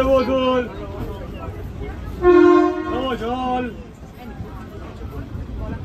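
A train horn sounds as a train pulls into Prantik station near Bolpur, a loud sustained toot with a shorter blast before it, heard over a babble of passengers' voices on the platform.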